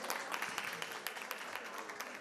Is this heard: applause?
yes